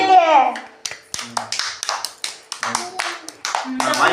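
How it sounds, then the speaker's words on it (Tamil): A child claps hands at a birthday celebration, a steady run of sharp close claps repeated about twice a second, while voices talk over them. "கை தட்டு. கை தட்டு."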